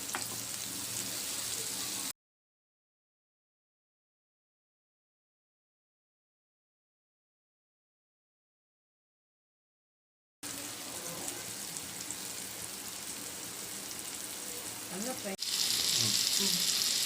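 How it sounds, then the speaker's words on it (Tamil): Plantain slices frying in a pan produce a steady sizzle at the start, then drop to dead silence for several seconds before the crackling fry returns, a bit louder near the end. "வாழைக்காய் இப்போ 2 பக்கமும் ஃப்ரை ஆயிடுச்சு"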